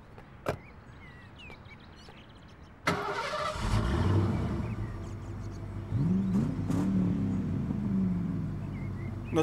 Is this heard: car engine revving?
yes